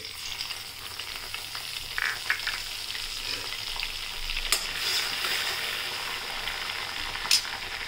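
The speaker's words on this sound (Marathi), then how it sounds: "आता तेल तापत ठेवलं आहे. जिरं आणि खडे मसाले टाकूया." Cumin and whole spices sizzle in hot oil for a tempering, a steady close hiss running throughout with a few sharper crackles and pops, no voices over it.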